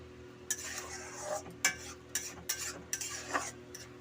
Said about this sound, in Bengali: গাজরটা দিয়ে একটু ভাজা ভাজা মতো করে নেব।